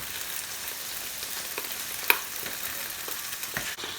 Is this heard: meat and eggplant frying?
yes